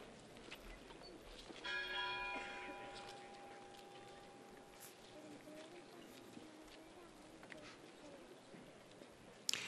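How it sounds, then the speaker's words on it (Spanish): A lone temple bell rings across a Holy Week procession scene in a city street in Zamora, its tones clear and sustained early on, then fading under a murmur of crowd noise and distant talk. "Se ha quedado sola la campana del templo"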